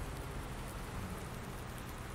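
Steady rain hisses evenly in the video game Farming Simulator 19, a dense wash of falling drops with no voices.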